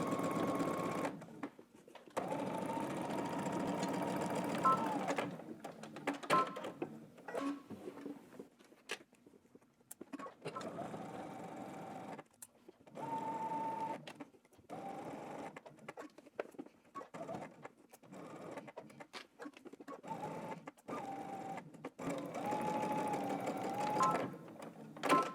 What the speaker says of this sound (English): we're gonna go ahead and stitch along the very edge of our pocket